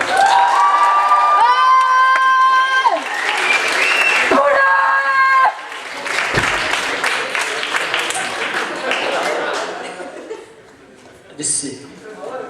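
A lively crowd at a cosplay awards ceremony claps and cheers, with shouts rising over steady applause and a bright tonal melody playing alongside; the noise thins out toward the end.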